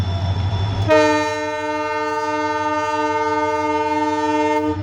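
Train engine crossing the new Pamban railway bridge on a trial run sounds a long, steady, loud horn that starts abruptly and holds over a continuous low rumble.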